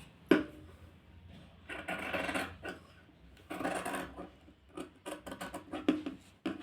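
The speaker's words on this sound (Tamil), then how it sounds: "இப்போ நம்ம இது கட் பண்ணி எடுத்துக்கலாம்" Fabric being cut for a boy's tailored outfit: scissors snip and rasp through the cloth in short, close, quiet bursts, with soft rubbing between cuts.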